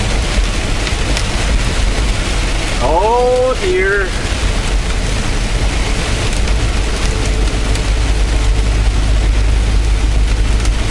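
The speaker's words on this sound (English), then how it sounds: "Here comes the rain again." Rain mixed with hail drumming on a semi truck as a steady, dense wash of noise throughout, with a short spoken exclamation partway through.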